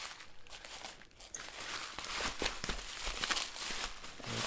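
A parts package for an Arrma Typhon RC car being ripped open with scissors, a close, quiet run of crinkling, tearing plastic with a few sharper snips and crunches.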